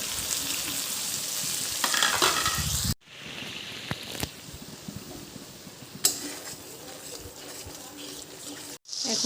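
Ground cumin, turmeric, chilli powder and salt frying with onion paste in a pan for jackfruit and prawn curry, a steady close sizzle broken by brief pauses and clinks of a stirring spoon.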